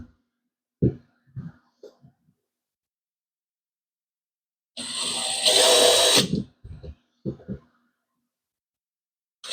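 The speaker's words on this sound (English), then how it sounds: "not until I'm sure these are the last screw holes I'm drilling" A power drill bores screw holes for hatch lifters, a single loud whirring burst of about a second and a half, surrounded by quiet handling knocks and clicks before and after.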